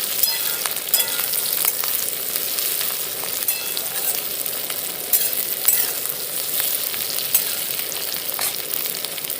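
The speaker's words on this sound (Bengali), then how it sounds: "আদাগুলো দিয়ে আবার কিছুক্ষণ নেড়ে নেব" Chopped ginger frying and being stirred in a pan for jackfruit chili, a steady close sizzle with scattered scraping clicks of the spatula throughout, no voices.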